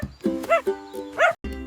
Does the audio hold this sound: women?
no